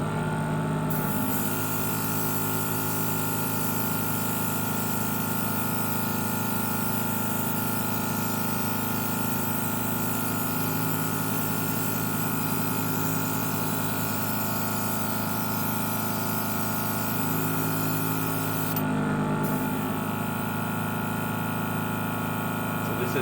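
A Nasedal dual-action airbrush fed by an adjustable-pressure compressor cranked to full pressure hisses loudly and steadily over a constant motor hum, briefly pausing and resuming near the end.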